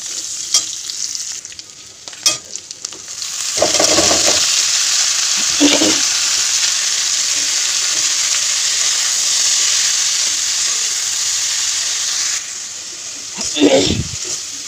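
Thankuni (Indian pennywort) leaves frying in a pan, a loud continuous sizzle and hiss close by, broken by a few stirring scrapes and clatters at the start and end.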